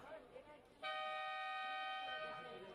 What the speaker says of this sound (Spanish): ahí lo escuchamos, suena la bocina, ya se empiezan a colocar los jugadores en pista